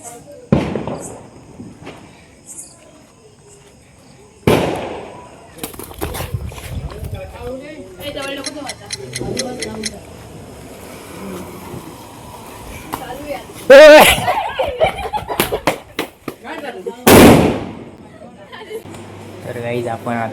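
Diwali firecrackers burst outdoors in a few sharp, loud bangs spread across the stretch, with voices talking and calling out between the blasts.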